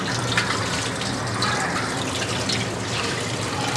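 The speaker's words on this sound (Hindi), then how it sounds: "मैं नल के पानी से इसको अच्छी तरह से ठंडे पानी से धो रही हूँ" Cold tap water pours steadily over boiled macaroni in a strainer, a continuous close splashing hiss with small drips and no talk.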